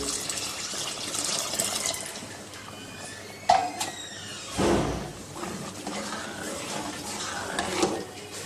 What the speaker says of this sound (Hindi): ये 1 पाव चावलों के अंदर 1 लीटर फ्रेश दूध शामिल कर रहे हैं।